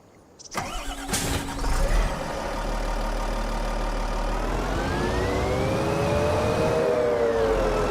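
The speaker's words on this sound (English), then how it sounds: "Let's take the JCB, I guess." A JCB vehicle in Farming Simulator 25, on the Lone Star Plains map, cranks and fires up, then settles into a steady, loud engine drone with a slowly rising whine.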